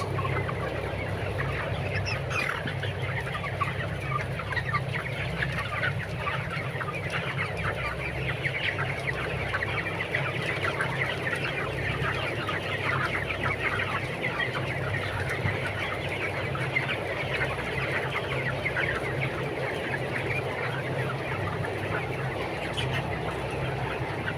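A flock of 22-day-old broiler chickens clucks continuously, many overlapping birds at a steady level under a constant hum, with no pauses throughout.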